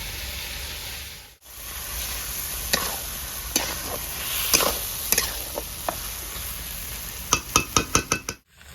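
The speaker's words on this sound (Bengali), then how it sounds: "বন্ধুরা হালকা করে কষতে নিয়েছি তেলে আমি ভেজে নিয়েছি মাংসটা এবারে পেস্ট করে মশলাটা দিয়ে দেবো" Chicken meat fries in oil with spice paste for a cauliflower and chicken curry, a steady sizzle under repeated scraping stir strokes that grow into a quick run of clinks near the end.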